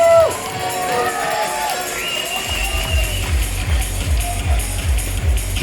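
Spectators cheer and whoop along the course at the 2024 Canoe Freestyle European Championships in Graz, a steady crowd roar with rising shouts, joined partway through by a thumping rhythmic beat.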